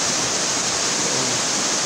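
Steady rushing water from a waterfall and flowing clear stream at a resort in Bulusan, Sorsogon, a continuous broadband roar heard close by with no voices.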